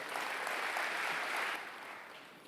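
Congregation applause during a church service, steady broadband clapping that holds for about a second and a half and then fades softly toward the end, fairly quiet and with no talking over it.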